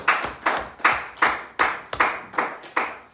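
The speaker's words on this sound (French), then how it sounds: "Quelqu'un peut acclamer pour le Seigneur." Congregation clapping in rhythm during a church intercession service, about eight loud, sharp, evenly spaced claps in quick succession with no talk over them.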